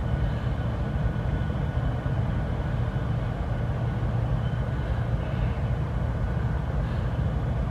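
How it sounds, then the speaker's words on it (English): Distant freight train locomotives give a steady, low rumbling drone with a faint whine, continuous and unchanging outdoors near a park path, with no talking. "I can hear the locomotives now whining in the background"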